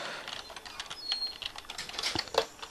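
Rapid, uneven clacking of keys on a computer keyboard as a short word is typed, close and clear with small pauses between bursts.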